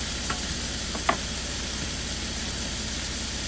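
Cowboy fried potatoes sizzle steadily in a skillet with a constant hiss, broken by a couple of soft stirring scrapes and no talking.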